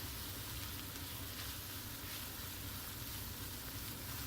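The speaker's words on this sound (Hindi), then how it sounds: "मैंने मैदा ऐड किया है और इसको तकरीबन 1 मिनट आपने अच्छा सा भून लेना है" Maida flour roasting in a pan for a cream of mushroom soup gives a soft, even, continuous sizzle at low level, with no distinct stirring strokes and no voices.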